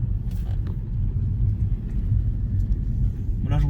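Road noise inside a slow-moving Tesla fills the cabin with a steady low rumble from the tyres and road, with faint movement sounds near the end.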